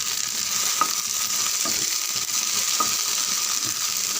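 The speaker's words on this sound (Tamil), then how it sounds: "வெண்டைக்காய் நல்லா வதங்கிருக்கு பாருங்கள்" Okra (ladies finger) sizzles in a frying pan, a steady hiss broken by soft, periodic scrapes and taps as a utensil stirs it, with no voices.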